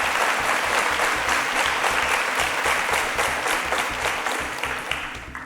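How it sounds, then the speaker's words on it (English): A studio audience at a Nigerian school quiz show applauds the contestants, a steady, fairly loud patter of many hands that holds evenly and fades a little at the close. "a round of applause for our Super SPAKs"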